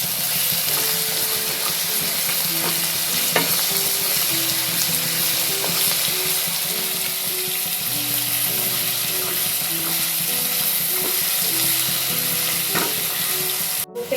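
A whole tomato sizzles steadily in a hot pan with spices and turmeric over a low gas flame, a dense continuous crackle with faint tonal hum in the background and no voices.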